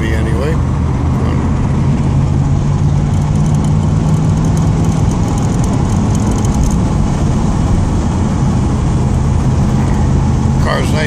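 A 1986 Camaro cruising along a bumpy country road, its engine a steady low rumble with road and cabin noise, fairly quiet and constant while someone talks over it.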